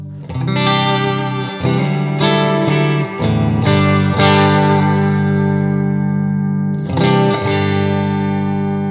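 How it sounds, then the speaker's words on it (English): Loud electric guitar chords ring out through a 1976 Fender Princeton Reverb tube amp, volume near 5.5, with a warm, slightly overdriven tone and spacious reverb, strummed in bursts with sustained decays between. "This thing is just such a wonderful sounding amp."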